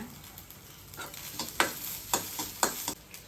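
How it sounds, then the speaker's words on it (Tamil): Onion and garlic sauté in a pan with ginger pieces and a little tamarind. A spatula stirs them in a series of scraping, sizzling bursts, with louder strokes in the second half. "வெங்காயம் பூண்டு நல்லா வதங்கிருச்சுங்க"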